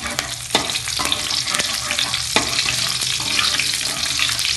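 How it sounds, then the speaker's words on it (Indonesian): Shallots sautéing in hot oil for an Acehnese stir-fry, a loud, dense crackling sizzle with a few sharp clicks of a utensil against the pan, continuous and close throughout, no talking. "minyaknya panas, kita tumis bawang"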